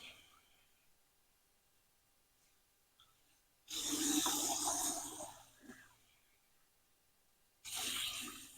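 Garden hose spraying water over freshly dug comfrey roots to wash off soil, a loud broadband hiss in two bursts, a long spray and a shorter one after a quiet pause, close by with no talk.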